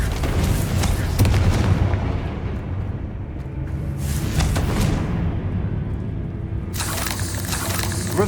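Fiery Confringo blasts from Hogwarts Legacy boom and rumble in a dense, loud wash, with bright bursts of crackle around the one-, four-to-five- and seven-second marks.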